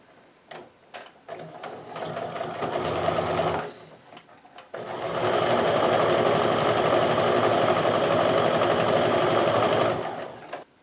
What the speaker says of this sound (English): So I'm just going to go ahead and sew this together into rows first, and then sew the rows into a completed block.